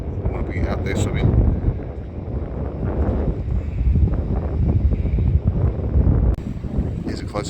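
Strong, cold wind on a rough ocean coast near Elephant Rocks, Denmark, Australia, buffets the microphone in a continuous loud low roar with faint surf beneath, and a voice talks through it.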